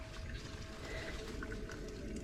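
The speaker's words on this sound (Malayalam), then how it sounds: "കണ്ടോ വെള്ളത്തിൻ്റെ സൗണ്ട് നിങ്ങൾക്ക് കേൾക്കുന്നുണ്ടോ?" Cool spring water from a natural hillside source flowing steadily and gurgling in a close, continuous wash of sound, with no voices over it.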